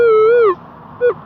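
A metal detector gives a clear, clean tone for a clad quarter buried shallow in the ground, one longer beep followed by a short second chirp. The signal is near and loud, with no talking over it.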